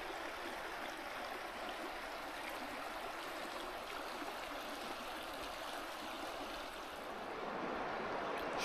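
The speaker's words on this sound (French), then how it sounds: "Je suis sur le bord de la rivière Sotoriski." The Rivière Sautauriski rushes along a hiking trail in the Jacques-Cartier national park, a steady, full broadband roar of flowing water that stays constant and close throughout, with no voices.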